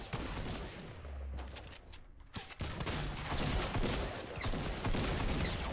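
Rapid bursts of gunfire in Fortnite crackle almost continuously, with repeated shots and volleys layered close and loud, briefly thinning before resuming.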